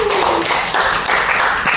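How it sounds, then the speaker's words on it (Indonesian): A classroom group claps together after finishing a game in a school lesson, a dense, steady burst of hand claps close by with no talking. "Tepuk tangan untuk kita semua."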